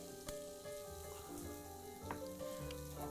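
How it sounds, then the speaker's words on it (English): Soft, steady sizzling of a grilled cheese frying on a hot surface, quiet and continuous with small crackles and pops. "You can hear that sizzle."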